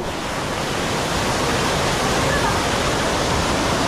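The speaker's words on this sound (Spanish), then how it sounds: "Miren, miren qué hermosa la cascadita." Cascada del Indio in Valle del Lunarejo pours a steady, dense roar of falling water, loud and close with no break throughout.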